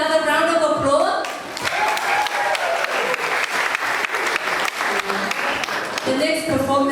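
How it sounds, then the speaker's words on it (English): A crowd at a performance event bursts into sustained applause after a duet, many hands clapping together loudly and steadily for several seconds before it tapers off. "Can we please give them another round of applause?"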